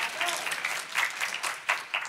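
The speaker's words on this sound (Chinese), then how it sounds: "相信的拍手把荣耀归给主" A church congregation claps in a brisk, fairly steady rhythm, a moderately loud crowd of hands clapping together in a hall, with some voices mixed in.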